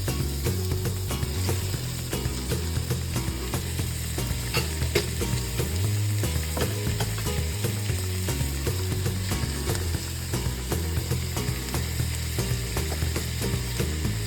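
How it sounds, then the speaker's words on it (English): Yellow, red and green bell peppers and jalapeno peppers sauté in a pan, a dense, steady sizzle with continuous scraping and stirring, close and loud throughout. "Keep stirring to combine all components of a mixture thoroughly"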